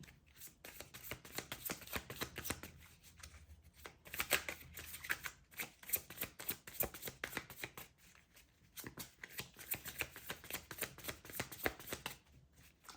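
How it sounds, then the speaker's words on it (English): Tarot cards are shuffled close up in repeated riffling bursts with short pauses between rounds. "I do shuffle a lot"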